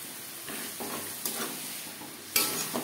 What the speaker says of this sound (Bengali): 4-5 মিনিট মশলা বেশ ভালো করে কষিয়ে নেব।